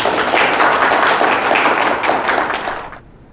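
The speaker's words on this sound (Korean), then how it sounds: "그럼 박수로 변창흠 장관님을 모시도록 하겠습니다." Dense audience applause welcoming a guest lecturer at a graduate school of environmental studies lecture series, loud and steady for about three seconds before cutting off abruptly.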